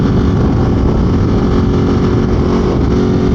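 A 2022 Ducati Monster motorcycle engine with altered gearing pulls hard under acceleration, a loud, continuous, dense engine roar that holds steady through the short stretch with no voices.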